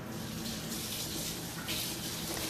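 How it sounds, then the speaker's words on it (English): Water runs steadily from a kitchen faucet as something is rinsed under the stream in a home kitchen, a continuous close hiss and splash with no voices. "I'm going to rinse this off because I need it to melt my chocolate."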